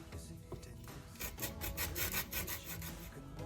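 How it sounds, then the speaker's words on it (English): A clementine is rubbed against a kitchen grater for a Christmas pudding, giving quiet, quick, rhythmic rasping strokes that grow denser partway through. "you need 1 clementine, and you need to grate it"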